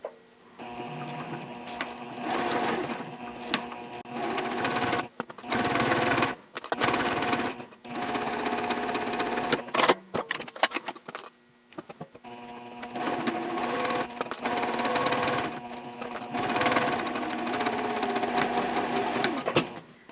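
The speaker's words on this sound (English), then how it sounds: "we're going to sew down each side with a 1/4 of an inch seam" A sewing machine stitches quarter-inch side seams on a fabric sling at stitch length 3.0, running in bursts of rapid mechanical whirring with short pauses and backstitch stops between runs.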